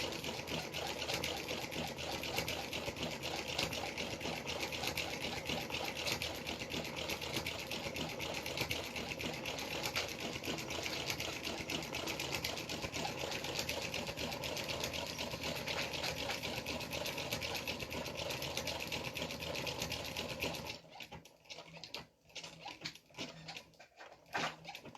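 A sewing machine stitches fabric applique in a fast, steady mechanical whir close by for about twenty seconds, then stops, leaving faint handling noises.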